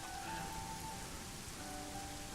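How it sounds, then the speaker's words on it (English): Steady rain pours down on a surface outdoors, a dense, continuous hiss of drops with no voices over it. "let's start, it's raining."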